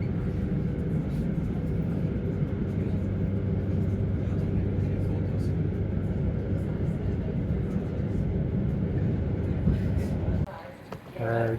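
Steady interior rumble of a train climbing the Brenner Pass railway in Austria, a continuous low rolling drone with a brief dip near the end.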